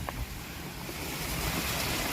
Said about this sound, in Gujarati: એ પાણી ચાલુ છે